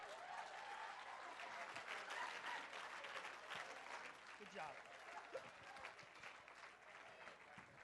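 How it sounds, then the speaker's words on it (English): Wedding guests clap together on a dance floor, a sustained crowd applause of many hands, fairly dense and steady, a little distant, easing slightly toward the end. "Give them a round of applause, you guys."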